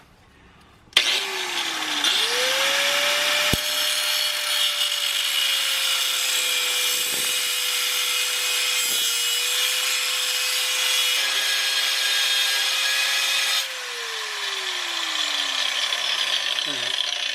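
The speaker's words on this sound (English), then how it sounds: "we're gonna try and cut that bracket off without cutting into the axle" An angle grinder cuts a broken shock mount bracket off the axle of a lifted 2006 Jeep Wrangler TJ. A loud, steady, high whine holds for about thirteen seconds with slight dips, then winds down as the disc slows.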